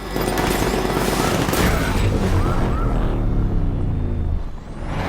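Sustained gunfire and explosive booms from the Batman Arkham Knight video game, a dense, loud barrage with rumbling low end that runs continuously before easing slightly near the end.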